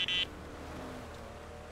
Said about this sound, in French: C'est l'alarme des bip des gardes.